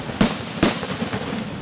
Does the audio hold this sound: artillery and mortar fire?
yes